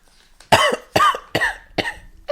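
A person coughs in a series of four or five harsh bursts, each short and close, spaced evenly with a breathy, strained tone.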